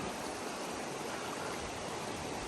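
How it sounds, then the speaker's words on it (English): Steady, dense rush of a waterfall in Algonquin Park, continuous and fairly close, with no voices. "this is a waterfall, but it's not the waterfall we're going to"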